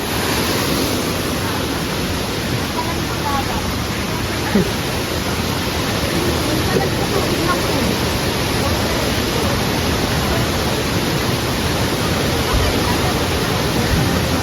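Tanawan Falls in Dingalan, Aurora, a waterfall roaring with a steady, loud broadband rush that continues evenly without a break.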